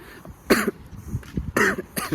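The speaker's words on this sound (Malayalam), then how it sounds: "അപ്പോൾ അതിൻ്റെ ചുമയുണ്ട്" Two sharp, close coughs about a second apart, with soft breathy throat sounds in between.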